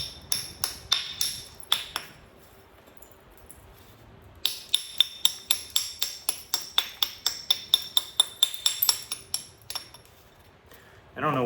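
A stone blade being knapped to flatten one side, sharp close clinking taps in quick repeated runs, a short pause, then a long steady series of crisp strikes.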